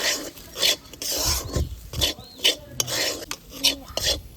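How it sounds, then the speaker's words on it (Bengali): Moong dal batter being mixed with added ingredients, salt and a little sugar, giving repeated scraping, rubbing stirs of a utensil against a bowl in uneven strokes, close and fairly loud, with no talking. "এবার এই সবকটা উপকরণ খুব ভালোভাবে ডালের সাথে মিশিয়ে নেব"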